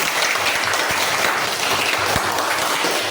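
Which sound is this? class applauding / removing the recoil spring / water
class applauding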